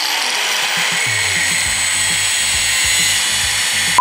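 A steel drill bit is held against a stationary power sharpening tool, producing a loud, steady grinding whine that runs without a break before cutting off abruptly.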